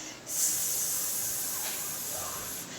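A voice imitates a snake's hiss for the letter S in a children's reading lesson: one long, steady, sibilant hiss that starts abruptly and is held close and clear for over two seconds.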